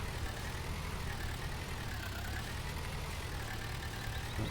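A tractor engine in Farming Simulator 19 runs during silage making with a hay rake, a steady, even mechanical drone that holds for several seconds with no talking.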